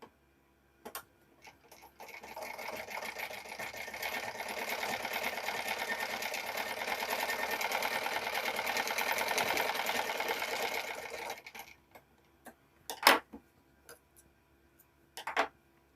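A sewing machine runs a pressed straight stitch along a blouse strip, whirring steadily for about ten seconds at a constant pace. A few sharp clicks and taps from handling the cloth come before and after.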